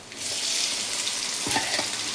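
Loud, steady sizzling of tomatoes frying in a hot pan, with a few soft stirring clatters near the end.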